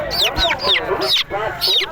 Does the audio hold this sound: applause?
no